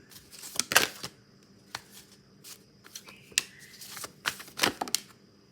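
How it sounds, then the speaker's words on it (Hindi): A deck of tarot cards is shuffled by hand in a quiet room, with several crisp bursts of riffling and flicking snaps separated by short pauses. "But I want to shuffle cards one more time."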